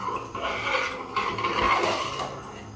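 A utensil stirs and scrapes through biryani rice in a cooking pot, making close continuous rough scraping and rustling with a few stronger strokes and no talk.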